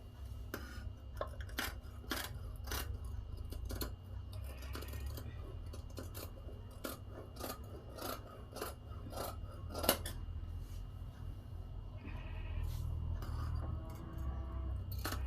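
Scissors snip through pinned blouse lining fabric in a run of quiet, close, regular cuts with soft rustling between them, faint and unaccompanied by talk.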